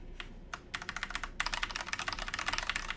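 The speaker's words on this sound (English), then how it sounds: "we know that the stabilized keys are gonna sound terrible because they're not modded" Fast, continuous typing on a Norbauer x Originative aluminium TKL keyboard with unmodded stabilizers, dense clacky keystrokes close up, a brief pause early on and then a steady rapid stream of presses.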